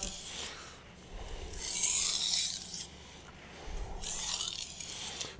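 A knife blade is drawn across a CBN whetstone in long, slow, gritty rasping strokes, each stroke rising and fading, close and clear with no talking.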